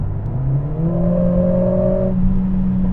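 A Mercedes CLA45 with a new exhaust in race mode, floored in sixth gear as the gearbox drops to fourth, its engine note climbing in a loud, steady rising drone that holds for a couple of seconds, close and with no talk.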